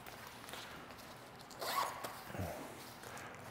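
Zipper being pulled on a counterbalance bag of a 2-in-1 boom stand, a short close rasping zip near the middle, with a second softer pull shortly after, in a quiet room.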